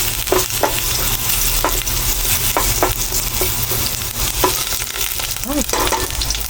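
Hot oil sizzles steadily in a frying pan while cooking a mussel dish, a dense, close hiss broken by sharp pops and a few stirring clicks, with no voices.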